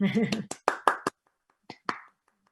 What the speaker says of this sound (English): I am sad that you will not get to hear a roarous applause, but please know that it is happening, and I will give you as much of one as I can.